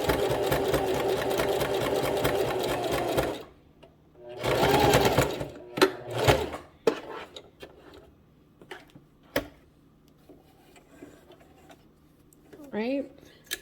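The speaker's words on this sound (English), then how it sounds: "as the machine is feeding the fabric through" A sewing machine stitches a flat felled seam, running steadily with a dense mechanical whir for about three seconds, then sewing in shorter bursts with pauses and small clicks and handling noises between them.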